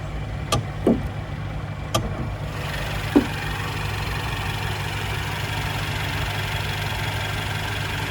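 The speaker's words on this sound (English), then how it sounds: "And there's your 2-liter engine." The 2-liter engine of a 2017 Mercedes-Benz C300 Sport idles steadily, a smooth low hum heard up close, with a few light clicks early on.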